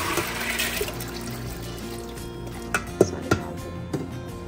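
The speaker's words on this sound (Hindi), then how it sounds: "सो अब इसको मैं डालूँगी कुकर के अंदर, इसके साथ 3 गिलास पानी भी है" Whole brown masoor lentils and three glasses of water pour into a pressure cooker in a home kitchen, a steady watery rush that fades, followed by a few sharp clinks and knocks against the cooker.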